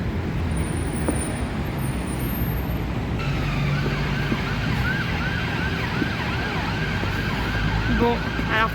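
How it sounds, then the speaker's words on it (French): Ambulance sirens wailing through street traffic in the Whitechapel district of London, rising and falling tones over a constant roadway rumble, fairly close and continuing throughout with no talk. "les bruits des ambulances et tout, ça va pas être possible"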